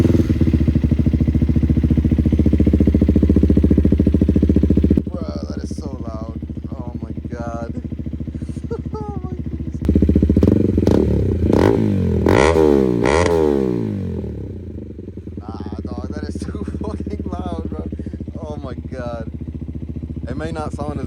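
A KTM Duke 250 motorcycle engine idles loudly up close, then rises in a couple of sharp revs before settling back to a steady idle, with someone talking over it throughout.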